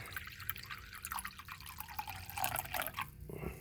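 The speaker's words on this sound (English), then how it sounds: "Pour some vinegar in there." Vinegar is poured into a container, giving close, faint trickling and dripping splashes in uneven bursts that end in a short, sharper splash.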